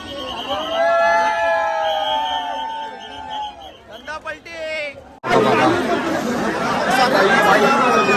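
A dense crowd at the Ekvira Aai palanquin procession fills the air with loud, close hubbub and chatter, starting after a stretch of nearby voices and continuing steadily to the end.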